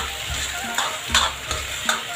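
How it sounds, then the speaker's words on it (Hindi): Sugar being stirred into hot syrup for sira, a traditional sweet dish, with a soft sizzle and a few scraping strokes of a spoon in the pan, close and steady. "ये होगी चीनी और इसको मैं अब मिला लूंगी शीरे में"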